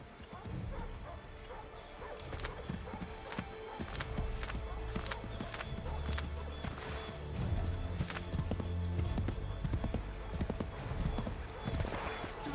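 Horse hooves clip-clopping in Assassin's Creed III, a steady trot of hoofbeats amid game ambience with a dog barking, a horse whinnying and people talking over it.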